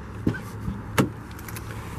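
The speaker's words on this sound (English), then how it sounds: "it will also lock the vehicle" A 2014 Ford Escape Titanium locking through its keyless entry keypad: two quick mechanical clunks of the door locks, about three quarters of a second apart, against faint background hum, with no talking.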